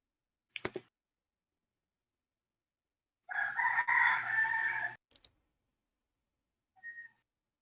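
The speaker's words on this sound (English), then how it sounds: "Somebody fucking those chickens." At a market, a rooster crows loudly and nearby, and short clicks and a faint whistle-like chirp sit around it against otherwise quiet surroundings with no talk.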